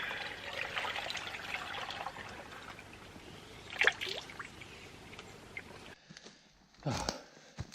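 Water trickles and pours steadily into a 3 litre Camelbak hydration bladder at a forest campsite, a soft continuous stream that stops partway through, followed by a couple of brief handling noises.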